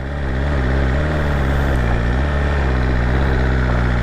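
A BMW S1000RR sport bike's engine runs at low speed with the clutch feathered, a steady close-up mechanical drone with a low rumbling pulse throughout.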